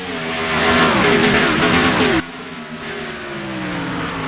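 Engines of a pack of race cars roar loudly at the start of a 25-kilometre Piston Cup video-game race at Phoenix Raceway, a dense revving wall with rising pitch that cuts off abruptly and continues as a steadier, quieter drone.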